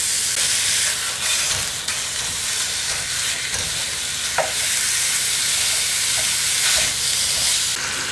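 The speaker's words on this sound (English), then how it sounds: "To a skillet, we're going to add in 1 pound of ground beef." A pound of ground beef fries in a skillet with a steady, loud, hissing sizzle, broken by occasional scrapes and pops as the meat is moved around, close up, with no talking.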